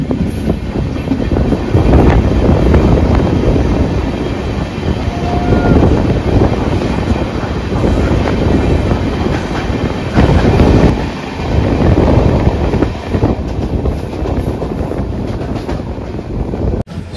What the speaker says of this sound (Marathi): शानदार मत्स्यगंधा एक्सप्रेसने प्रवास होतोय